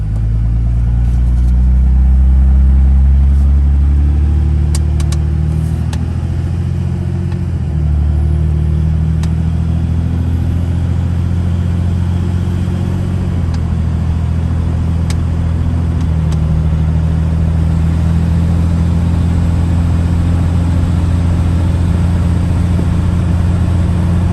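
A 2003 Dodge Ram with the 5.9 Cummins diesel drives along, its deep engine rumble loud and steady from inside the cab, with the pitch shifting through gear changes and no talk.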